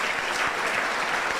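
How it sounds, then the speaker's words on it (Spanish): Dense church audience applause, steady and full, filling the whole moment without any talk. "Si quiere darle un aplauso a Dios por la vida del pastor Manolo Sierra"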